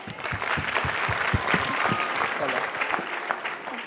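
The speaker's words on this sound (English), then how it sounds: "So parents, please clap for them." Parents in a school audience clap steadily for the children, a dense, fairly loud patter of applause with a few sharper near claps and faint voices mixed in.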